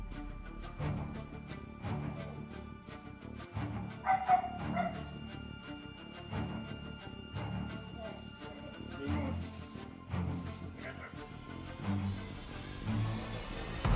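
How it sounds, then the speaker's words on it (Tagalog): Several dogs bark and yip in short bursts, some close and some farther off, over a busy background with people talking. "pala may mga aso dyan"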